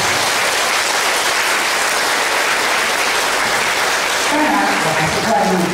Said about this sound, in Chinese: 所以我们以热烈的掌声谢谢他们。